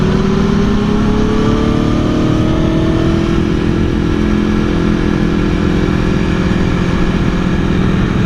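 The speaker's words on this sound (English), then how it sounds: "This is the Aprilia Tuono." A 2016 Aprilia Tuono V4 1100 motorcycle on a track day, its V4 engine droning loud and steady at high revs under heavy wind rush, with no talk.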